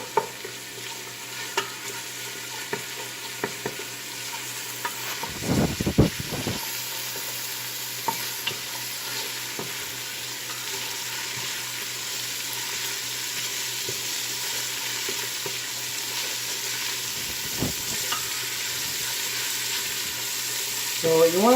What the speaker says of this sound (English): So we're just going to let this fry up a little bit.